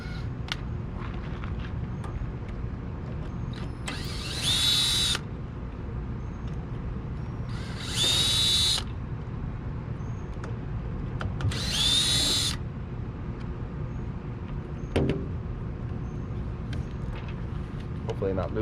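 A power drill whirs in three separate bursts of a second or so each, spaced a few seconds apart, while trailer wiring is removed from an RV hitch, over a steady background hum.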